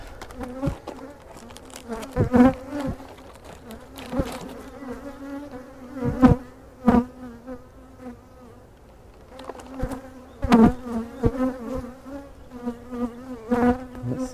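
Honeybees buzz steadily and loudly at close range while a hive is opened for a mid-summer inspection and queen acceptance check, with sharp handling knocks and thumps of hive parts breaking in at irregular intervals.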